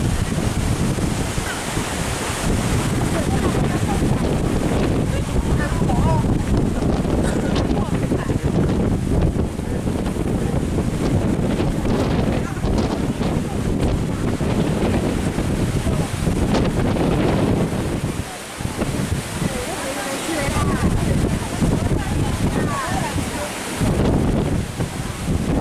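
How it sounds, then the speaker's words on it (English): Strong, gusty wind roars nonstop across a boat on overcast water in Thailand, loud and buffeting the microphone, with waves and a faint voice underneath. "Crazy windy."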